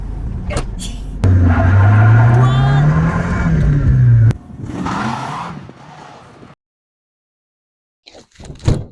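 1986 Dodge Shelby Charger Turbo engine pulling in a loud, rising drone for about three seconds, then cutting off into muffled rumbles and thumps, with a person talking over parts of it.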